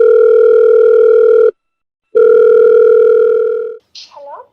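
Steady telephone dial tone while a call is placed, loud and close, broken once by a short gap, then cut off and followed by a brief faint chirp.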